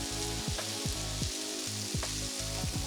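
Smash burger patties topped with seasoning and shaved onion sizzle loudly on a charcoal grill, a steady crackling fry close up, with repeated low mechanical hum pulses underneath and no talking.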